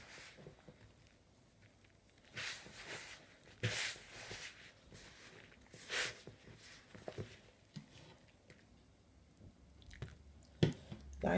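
Hands squeezing and pressing pastry dough for Guyanese chicken patties and cheese rolls while water is worked in a little at a time: soft, close squishes and sticky presses come in irregular bursts, with quiet pauses between them and no talking.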